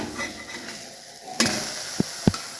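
Bottle gourd slices fry in a pan, a soft low sizzle that jumps into a brighter steady hiss midway, followed by two quick clinks of a utensil against the pan.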